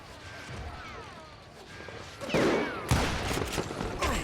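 Gunfire in the Western shooter game Call of Juarez Gunslinger starts quietly with ricochet whines, then sharp loud shots crack out in a burst near the end over background game noise.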